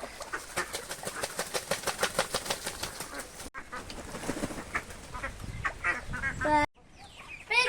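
Giriraja chickens kept as home pets cluck and call in quick repeated bursts, close and fairly loud, with a sharp break and a few more squawks toward the end.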